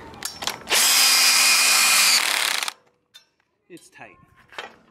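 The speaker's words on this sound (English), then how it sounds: "and get our wrenches" A power drill whirs loudly for about two seconds tightening a bolt on a paddleboard trailer, then stops, followed by a few light metallic clanks and tool handling.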